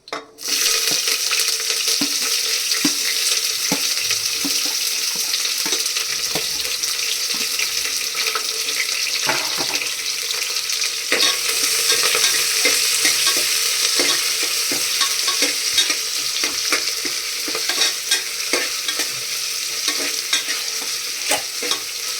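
Onion and curry leaves sizzle in tempering oil over a low flame along with spices such as cloves, making a continuous close crackle with frequent stirring clicks that runs steadily throughout.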